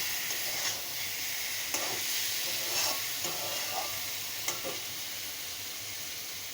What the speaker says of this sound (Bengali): তো এখন পরিমাণ মতো অল্প একটু লবণ দিয়ে দিলাম, দিয়ে ভালো করে লবণটা দিয়ে মিশিয়ে নেব।